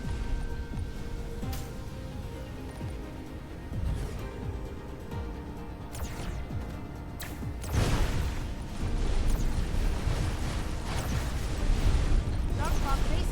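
Repeated explosions as Dark Fog base cores are destroyed in Dyson Sphere Program, deep rumbling blasts and crackling bursts over a steady game-music bed, with heavier eruptions building toward the end.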